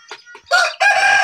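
Aseel rooster crowing up close and loud, a few short rising notes that break into a long, strained cock-a-doodle-doo, with no voices over it.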